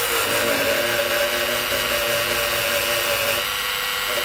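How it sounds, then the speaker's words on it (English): Dremel rotary tool fitted with a wire wheel scrubbing rust off a metal wiper bracket and channel from a Honda Prelude windshield wiper assembly: a continuous loud, close whirring grind with a steady harsh hiss and no pauses. "It's going to help me remove the rust from the channel here and on this bracket here."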